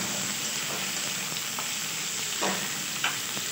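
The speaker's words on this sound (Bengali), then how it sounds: "বেশি ভাজবেন না, অল্প একটু ভেজে দিয়ে দিতে হবে।" Sliced carrots and other vegetables being lightly fried and stirred in a pan for soybean noodles, a quiet steady sizzle with occasional scraping stirs, no talking.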